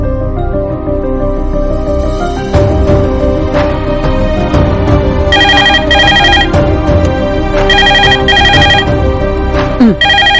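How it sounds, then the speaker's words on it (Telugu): A telephone ringtone in a Telugu TV serial scene rings loudly in repeated bursts of a bright electronic tune over a background music bed. "ఫోన్ మోగుతోంది, వినపడుతుందా?"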